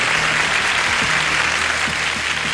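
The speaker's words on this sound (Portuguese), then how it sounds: "Palmas, então, pro Lucas que ajudou." Applause fills a magic show, a dense, loud and continuous burst of clapping from the audience, close and even throughout the short stretch.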